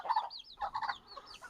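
Chickens in a coop cluck softly in short, close bursts of a few quick notes each, with no other sound around them.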